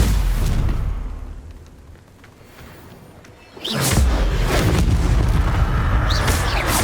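Confringo spell blasts in the video game Hogwarts Legacy on PS5, a loud booming explosion that decays into a lull, then a second heavy burst followed by a sustained rumbling roar with crackling debris.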